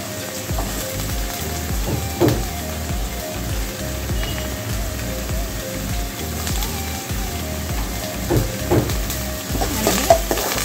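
Onion and capsicum sautéing on a medium flame for a mixed cabbage vegetable dish, giving a steady close sizzle with scattered scraping stirs and spoon knocks throughout.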